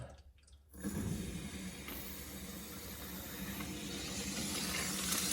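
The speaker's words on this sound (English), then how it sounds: "And that's water coming out of this little valve" After a brief quiet moment, water suddenly gushes out of a small valve on a whole-house water filter into a tank, pouring steadily with a hissing, splashing rush that grows slightly louder.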